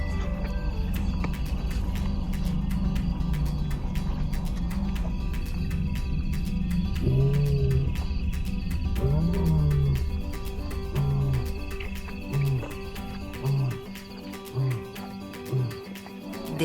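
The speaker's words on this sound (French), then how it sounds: "Des rugissements lointains interrompent le festin." Lions roar in the distance in the African bush, a series of deep, rhythmic grunting roars that repeat and fade toward the end, rising over a dense, steady bed of wildlife ambience and background noise.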